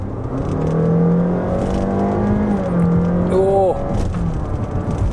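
A Honda Fit e:HEV RS hybrid accelerates hard from inside the cabin, its loud motor and engine whine rising steadily in pitch, then a sharper climbing tone near the end before it eases off.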